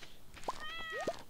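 The cat in Stardew Valley gives a couple of short meows in quick succession, close and clear, with a rising chirpy call between them over a quiet game background.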